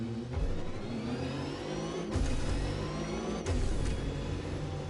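Electric car driving in The Crew Motorfest racing game, a steady whirring drive tone with rising whine sweeps, two sharp bursts or impacts cutting through partway, loud and continuous with no talking.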